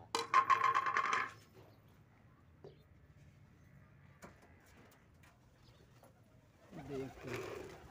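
A pigeon coos in short, soft throaty bursts, one near the start and another toward the end, with quiet stretches and faint background noise between.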